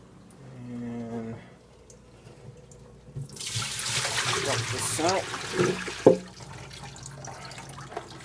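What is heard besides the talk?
RODI unit running water for aquarium water change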